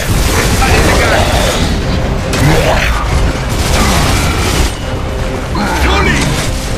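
Mortar shells blast in the shooter game Gears of War Judgment, heavy booms and rumbling impacts mixed with gunfire and battle noise, while characters shout over the chaos.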